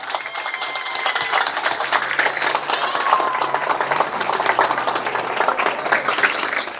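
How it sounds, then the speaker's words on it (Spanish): A crowd at an outdoor campaign closing rally breaks into sustained applause, a dense, even wash of clapping that holds steady throughout, with scattered shouts underneath. "Y un fuerte aplauso desde acá y mucha fuerza a Sergio Uñac."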